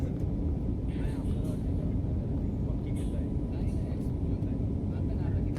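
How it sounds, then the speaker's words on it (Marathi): Steady, loud rumble of a passenger airliner rolling down the runway at Bhubaneswar airport at the start of its takeoff run, a dense, unbroken roar heard from inside the cabin, with faint voices in the background. "रनवेवर विमानाने रनिंग घेतलेली आहे"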